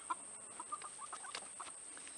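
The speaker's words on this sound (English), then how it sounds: "I gotta get rid of these chickens." Chickens cluck faintly in scattered, irregular bursts against a steady high-pitched background whine, with no talk.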